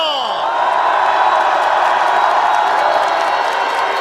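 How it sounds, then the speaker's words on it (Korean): A crowd at a political rally gives steady applause and cheering that swells and holds at a loud level, following a fading electronic tone at the start. "헌재를 위해 뜨거운 응원의 박수를 보내줍시다."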